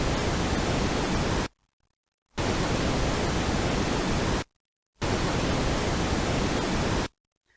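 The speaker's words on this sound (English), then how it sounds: "we're convolving noise with the black box, and this gives us an output" Noise passed through an unknown, likely low-pass filter plays as three steady hissing bursts, each about two seconds long, separated by short silences.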